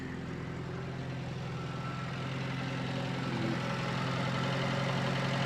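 Austin A30 car engine idling steadily after being restarted following a long rest, a low even rumble with a continuous mid-pitched hum, close and constant throughout with no talk.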